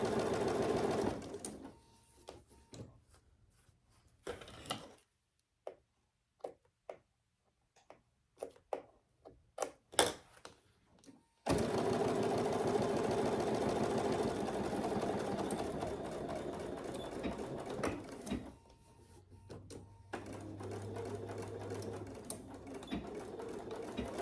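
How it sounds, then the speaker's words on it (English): A Bernina sewing machine stitches a clutch bag, running in short stop-start bursts at first, then settling into a long, steady whirring run close by. "This Bernina is a beautiful machine"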